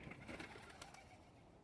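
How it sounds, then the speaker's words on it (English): Doves coo softly and distantly on a summer morning in the historic town of Wells, Nevada, faint against a steady background hiss. "Good morning to you too, love doves."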